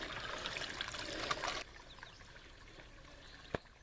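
Water trickles and drips from a wrung-out wet cloth on a mountain hiking trail, a soft close dribble lasting about a second and a half, then fading to quiet outdoor ambience with one sharp tap near the end.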